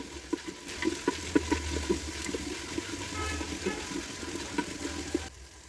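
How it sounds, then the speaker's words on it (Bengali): Tomatoes frying with ginger and garlic in a clay pot, a steady low sizzle with soft stirring scrapes and small clinks repeating throughout, close and moderately quiet. "এবার খুব ভালোভাবে এগুলোকে ভেজে নিচ্ছি টমেটোটাকে আদা রসুনের সঙ্গে"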